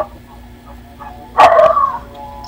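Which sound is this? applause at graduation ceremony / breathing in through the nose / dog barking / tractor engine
dog barking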